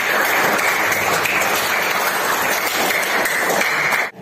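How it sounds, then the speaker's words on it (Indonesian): Students in a classroom clap together in a burst of lively, close applause that holds steady for about four seconds and then stops abruptly. "tepuk tangan untuk Andi"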